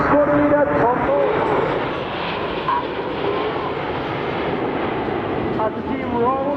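Red Arrows jet formation roaring past at the Bournemouth Air Festival, a steady loud engine drone filling the whole stretch while a commentator talks over it.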